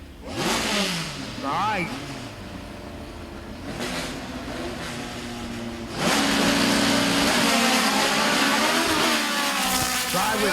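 Volkswagen cars drag racing side by side at Mason Dixon, engines revving and rising in pitch, then a loud sustained roar as both accelerate away, with a brief voice over the noise.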